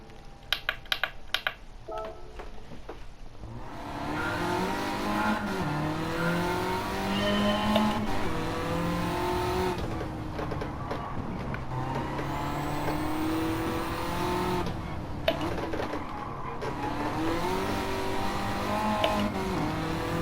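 A front-wheel-drive car in Gran Turismo 7 revs up and down through corners, its engine tone sweeping repeatedly with faint tire noise, after a few sharp keyboard-like clicks at the start.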